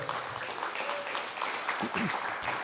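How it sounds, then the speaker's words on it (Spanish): A church congregation gives the Lord a round of applause, a steady patter of many hands clapping with voices calling out through it. "Dele una ofrenda de palmas"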